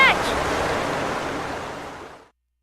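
Rushing water fills a pipe in the Heavy Rain video game, a steady broadband whooshing surge that holds for about two seconds and then cuts off abruptly.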